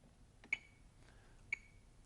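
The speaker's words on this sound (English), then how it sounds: "We'll set our metronomes to 60." Metronome set to 60 beats per minute, two crisp electronic ticks exactly one second apart, faint against a quiet background with no talking.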